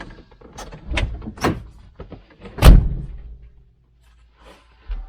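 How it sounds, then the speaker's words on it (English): A Jaguar XJC car door swings and shuts with a solid thud, preceded by a few softer knocks and rattles, close by; quiet afterward with one more bump at the end. "So we'll close the door."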